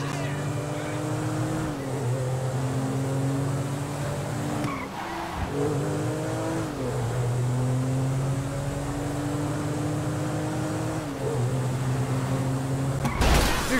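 Engine drone from a car driven erratically in Grand Theft Auto V, a steady loud hum with harmonic tones that dip and rise as gears shift, brief scuffs like skidding tires, and a sharp crash burst at the end.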